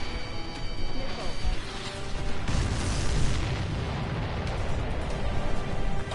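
Missile explosions erupt in the Ace Combat 7 air combat game as fuel tankers are destroyed, with rumbling booms and crashes layered in a dense, continuous blast of noise at moderate level.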